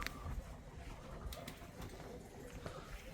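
Pigeons cooing close by, soft low throaty coos repeating over a steady background rustle with faint voices.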